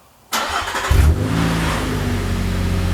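After a moment of quiet, a 2005-2014 Nissan Xterra with a newly installed Doug Thorley exhaust cranks and catches, revs briefly, then settles into a loud, rumbling idle close by.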